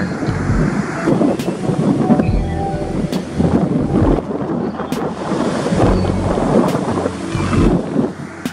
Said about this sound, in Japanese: 波はブレークしてますね